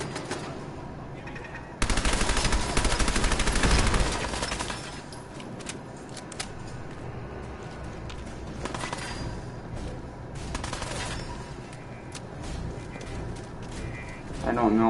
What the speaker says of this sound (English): Or is she shooting?